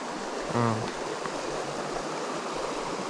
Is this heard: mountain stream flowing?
yes